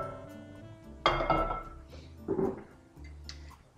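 A frying pan is set down on a stovetop with a sharp clatter, followed by a second softer metallic knock and light clinks, as olive oil goes in to heat in a quiet kitchen.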